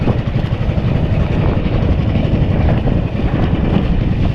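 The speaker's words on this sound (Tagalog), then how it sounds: "Ayun oh, lakas na hangin sa alon." Steady, roaring wind buffets the microphone over the continuous rush of waves at sea, loud and unbroken throughout.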